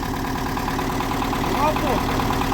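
An MTZ-82 tractor's engine runs steadily at idle close by, a continuous low rumble with a slight swell near the end and talk mixed in.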